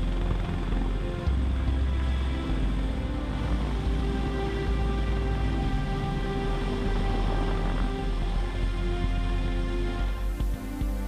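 Sikorsky CH-53K heavy-lift helicopter in flight, a loud sustained drone of engines and rotor with a low throbbing beat and layered whining tones, continuous throughout with no speech.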